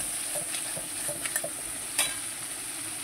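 Masala spices sauté in a hot pan while being stirred, giving a steady close sizzle broken by intermittent scraping strokes of the spoon.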